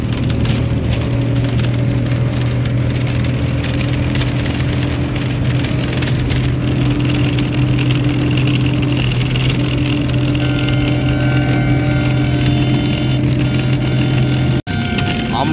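A bus speeds along the road to Digha, with a steady, loud rumble of engine and road noise from inside that carries on unbroken, plus a sharp click near the end.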